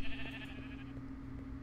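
Sheep in the Survival Islands video game give a short, faint bleat over a steady background hum, brief and synthetic-sounding with no speech.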